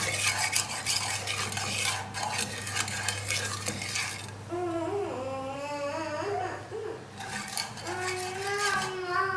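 Corn kernels are stirred through oil in a pan over a low flame for homemade popcorn, with a spoon scraping rhythmically against the metal over a low steady hum, followed by softer, gentler mixing.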